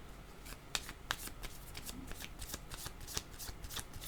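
Tarot cards are shuffled by hand in a steady, close run of crisp riffling clicks and flutters, with a few sharper snaps standing out.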